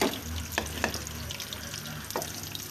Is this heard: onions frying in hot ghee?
yes